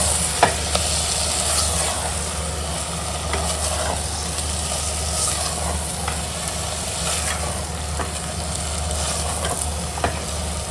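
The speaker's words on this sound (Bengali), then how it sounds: "মশলাটা এখানে ভাজা ভাজা হয়ে গেছে এরপর মাটনটাকে এর মধ্যে দিয়ে দেওয়া হচ্ছে" Mutton pieces sizzle and fry in oily spice masala in a pan, a steady close crackle with occasional scrape-like stirring knocks throughout, no voices.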